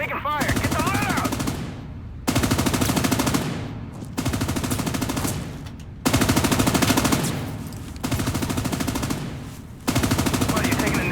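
Bursts of rapid automatic gunfire in a US Army combat training video game, a sustained rattling salvo repeated in several loud bursts with short pauses between them.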